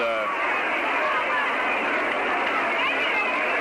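Baseball stadium crowd at a 1969 Expos–Mets game at New York, a dense roar of cheering and chatter swelling after a fan catches a foul ball, with a commentator talking over it.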